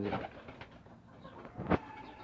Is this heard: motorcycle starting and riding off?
no